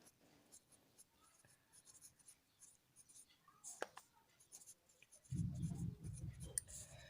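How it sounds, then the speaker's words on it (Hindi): Pen writing a name by hand on a surface during a physics lesson on reflected light rays, soft scratchy strokes heard close and faint, with a louder rubbing patch near the end and a voice talking quietly in the background. "तो हम यहाँ पे इसका नाम लिख लेते हैं।"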